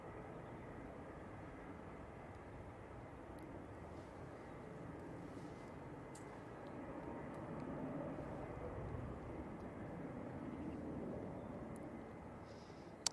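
A TUI Boeing 737 airliner on final approach to land at Manchester Airport, a steady broadband jet roar heard from a distance that swells a little midway and holds, with no voices.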